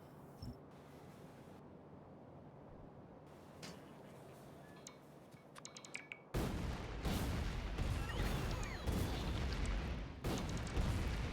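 Grenade blasts in the video game Factorio with the Pyanodons mod: a quieter stretch of scattered small pops gives way to a loud, dense burst of overlapping booms and crackling detonations that continues to the end.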